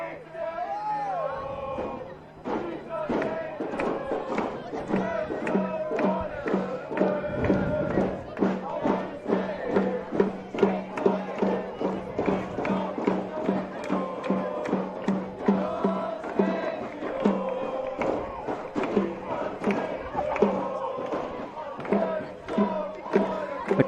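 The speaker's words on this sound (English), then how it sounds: "The crowd are loving it here at the Moretz Stadium." Crowd at a college men's soccer match in a stadium, with a steady roar of voices, shouts and whoops. Commentators talk over the noise throughout.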